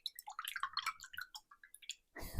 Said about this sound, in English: I'm going to start with a very wet brush, little ASMR moment. Put that by my mic.